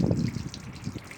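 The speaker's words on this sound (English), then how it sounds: "what I'm doing now is just draining the water out of the waste tank and the last of the water out of the freshwater tank." Waste water drains out of a caravan's waste tank, a steady close trickling and gushing flow with a low splashing rumble, heard alone for a brief moment.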